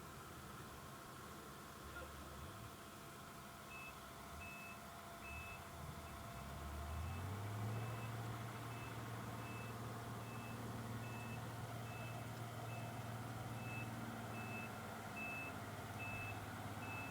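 A sand-carrying snowplow truck backs up during a snowstorm, its reversing alarm beeping in a steady, evenly spaced series while a low engine rumble swells and holds underneath.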